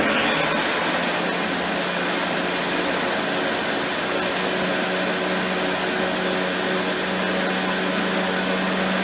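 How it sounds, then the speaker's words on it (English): A Vitamix blender whirs steadily through a raw vegan berry cheesecake filling of blackberries, a dense, continuous motor drone with even loudness throughout and no talking. "So I'm just going to blend this up."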